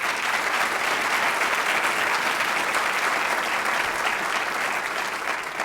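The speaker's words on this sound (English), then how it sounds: "Give them all a round of applause." Sustained, dense applause from an audience at a Chicago public safety forum, loud and steady throughout with no breaks.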